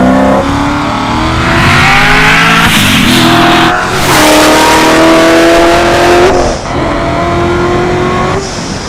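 A 1,000-horsepower Hennessey Corvette Z06 engine revs hard with exhaust valves open, roaring through second gear and up, rising pitch, loud and close, with brief dips between pulls, on a damp day.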